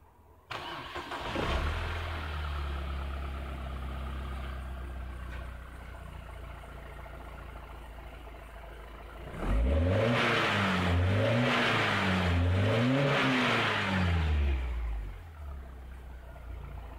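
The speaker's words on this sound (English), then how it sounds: "I'm going to turn the key in the ignition switch on again, and then crank it again" A BMW X3's starter cranks as the ignition key is turned and the engine catches, revving up in several rising and falling surges before settling back, loud and close with no voices.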